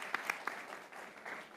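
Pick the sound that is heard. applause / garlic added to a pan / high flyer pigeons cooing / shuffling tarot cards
applause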